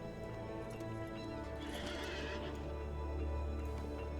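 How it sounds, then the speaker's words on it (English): The Steed of the Citadel horse mount in the Lord of the Rings Online video game neighs loudly while its hooves clip-clop steadily, both up close over a constant low game ambience. "Let's see what the Steed of the Citadel looks like"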